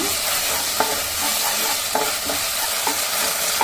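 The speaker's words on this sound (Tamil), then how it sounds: "இப்போ இதோட நல்லா ஃபைனாக சாப் பண்ண பச்சை மிளகாய் சேர்த்துக்கலாம் சேர்த்துட்டு அதே நல்லா வதக்கி விட்டுருங்க" Finely chopped green chillies and onions sautéing in a pan for prawn Manchurian, a loud, continuous sizzle broken by regular soft scraping taps of a spatula stirring, with no speech.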